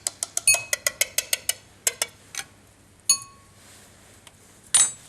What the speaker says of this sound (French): Puis je prends la spatule, je verse dans le cristallisoir.